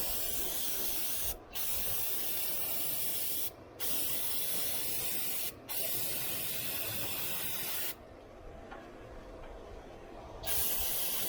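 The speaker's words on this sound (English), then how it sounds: "I can get a good can of brake right here." Aerosol brake cleaner sprays from a can onto the intake area of a 2003 GMC K1500 with a 5.3 LS engine, a loud, steady hiss broken by three brief pauses, then a softer, thinner spray toward the end.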